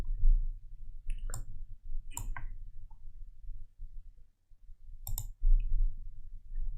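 Computer mouse clicks while working in CorelDRAW graphic design software, a few sharp, close clicks spaced apart over a low background hum.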